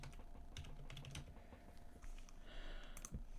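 Keys on a computer keyboard tap in quick, uneven bursts, faint and close, with small mechanical clicks and no talking.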